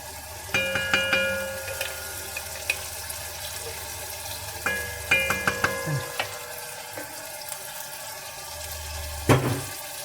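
Tomato paste fries in a pan for a homemade macaroni dish, a quiet sizzle broken by bursts of metallic spoon clinks and scraping as it is stirred, close up with no talking.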